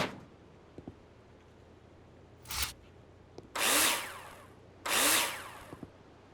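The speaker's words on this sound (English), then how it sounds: "Now place them in the hologram and screw them in with a drill." Power drill driving screws into metal profiles in the Builder Simulator video game, three short whirring bursts separated by pauses, the last two longer, with no talking.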